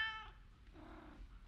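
A cat gives a short, faint meow at the start, followed by a soft, low purring rumble in quiet surroundings, with no talk.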